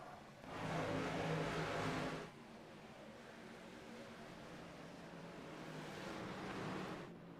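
Race trucks launch together at the green flag start of a truck series race, a loud engine roar surging for about two seconds, then settling into a steadier, fainter drone that swells again near the end.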